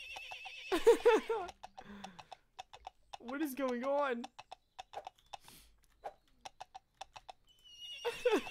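In the video game JazzPunk, a horse whinnies in a couple of bursts amid quick clip-clopping hoof steps, with a person talking in between.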